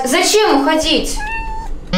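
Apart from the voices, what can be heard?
kittens meowing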